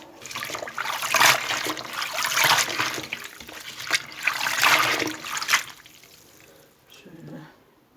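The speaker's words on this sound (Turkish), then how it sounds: "Burada otumu yıkıyorum." Water runs and splashes while fresh herbs are washed, with uneven gushing surges close by that fade into softer trickling and a faint clatter near the end, with no talk.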